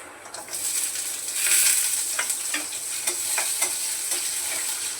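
Dry coconut masala fries in oil in a pan with a constant close sizzle, while a spoon stirs through it in soft, repeated scraping strokes, and no one talks.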